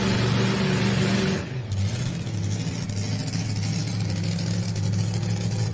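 A pulling truck's engine idles and revs at an NTPA truck and tractor pull in Sandwich, Illinois. The low, steady drone is loud and close, with a brief dip and shift in pitch partway before it settles into a constant rumble.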